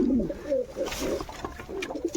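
Black-eyed Jira pigeons coo softly in a loft, low rolling calls repeating over a short stretch with faint background noise.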